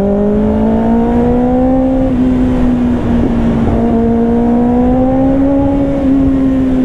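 A Kawasaki ZX6R 600cc sport motorcycle fitted with a titanium exhaust revs hard and close, holding a loud, high, screaming pitch that dips briefly and climbs again.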